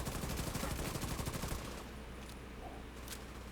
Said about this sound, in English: why am I trading shots with these guys?